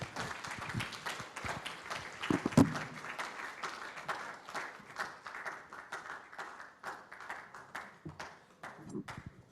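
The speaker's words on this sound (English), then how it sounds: "Another round of applause for the President and Chairman of the Governing Council." Applause from a forum audience at the CIPM 2025 CEO/CHRO/HRD Forum in Nigeria, scattered clapping rising and fading in irregular bursts, moderately distant, with no talk over it.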